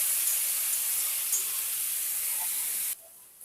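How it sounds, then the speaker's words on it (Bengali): Raw jackfruit pieces fry in hot oil with a steady, loud hiss and sizzle that runs unbroken for about three seconds, then drops away sharply near the end. "তাই এঁচোড়গুলোকে আমি একটু ভেজে নেব।"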